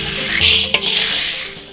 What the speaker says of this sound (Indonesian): Dengan diaduk, akan terus terjadi perubahan posisi biji jagung di dalam wajan.